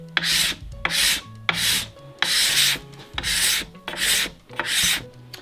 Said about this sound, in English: this is where that nice sharp scraper really pays off